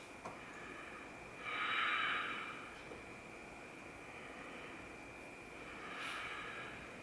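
Slow, soft breaths during a yoga stretch, two gentle inhale-exhale swells, quiet and close against a faint steady background hum.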